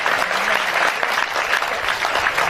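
Sustained applause from the audience at a Hindi poetry recital, steady and dense clapping throughout with no voices over it.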